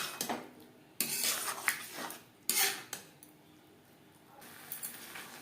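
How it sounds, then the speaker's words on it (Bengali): Gobindobhog rice, potatoes, peas and spices being mixed in a pan for a vegetarian paneer muri ghonto, with several bursts of utensil scraping and clinking separated by quieter gaps, close and fairly loud. "গোবিন্দভোগ চাল, মশলা ও মটরশুঁটির সাথে আলু ও চাল বেশ ভালো করে মিক্স করে দেবো"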